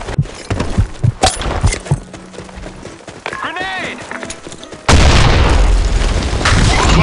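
Grenade blast in a first-person shooter game, a loud boom that cuts in partway through and holds as a sustained roar, following clattery gunfire and effects with an announcer-style voice nearby.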